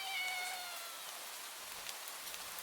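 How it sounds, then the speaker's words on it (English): A cat gives one faint, thin meow right at the start, then a soft, steady rain-like hiss carries on alone. "Was that a meow?"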